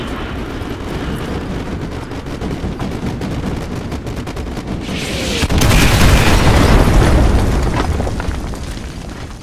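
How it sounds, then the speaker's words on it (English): Artillery strike in Call of Duty Modern Warfare 2 Remastered: dense rumbling gunfire and booms throughout, swelling into a loud, sustained explosive barrage in the latter half. "Artillery inbound."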